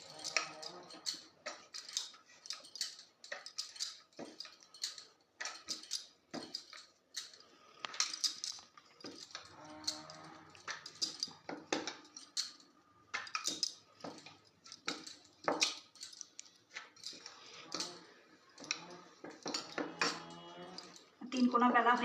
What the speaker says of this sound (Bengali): এটাতে তেল লাগিয়ে দিয়ে এটাকে আমি 3 কোনা বেলে নেব।